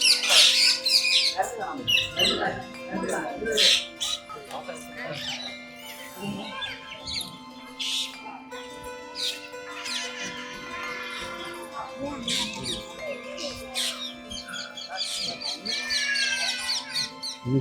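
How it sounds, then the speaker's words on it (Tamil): Parrots squawk at a temple courtyard at Gangaikonda Cholapuram, with repeated harsh bird calls, some near and loud, mixed with other chirps and a voice talking over them throughout. "இங்கே ஒரு கிளி இருக்கு."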